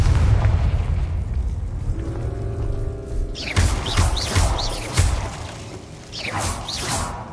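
A Confringo spell blast in Hogwarts Legacy, a deep rumbling boom at the start followed by whooshing, crackling bursts and swishing spell effects that fade into a lower rumble.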